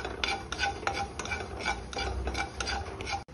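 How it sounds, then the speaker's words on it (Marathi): Cumin seeds dry-roasting in a pan for a raw mango panha, with a steady series of scraping stirs and light rattling of the seeds against the metal, close and fairly even, with no talk. "त्यासाठी मी इथे थोडेसे जिरे घेतले आहेत आणि ते आता आपल्याला भाजून घ्यायचे आहेत"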